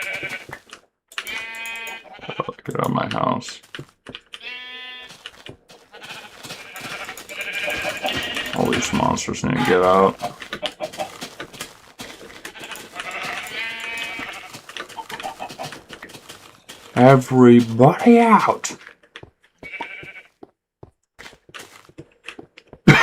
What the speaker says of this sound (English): Freaking brown sheep.